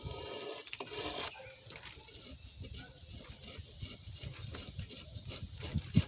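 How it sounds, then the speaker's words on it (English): Burnt residue is scraped off a stainless steel pan in close, rough rasping strokes that come in irregular bursts, with one louder scrape near the start and more toward the end, and no talking. "I'm going to scrape as much of this off"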